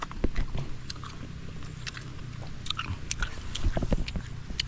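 Crunchy fresh fruit picked from trees on a farm is bitten and chewed up close, a run of crisp snapping bites and wet crunching chews in an irregular rhythm.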